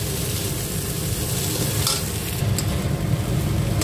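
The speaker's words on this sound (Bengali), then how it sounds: "তো দেখো এইভাবে মশলাটাকে ভালো মতন কিন্তু মিক্স করতে হবে।" Potatoes being stirred with spices in a frying pan, giving a steady close scraping and sizzling texture that runs without pause throughout, with no talking.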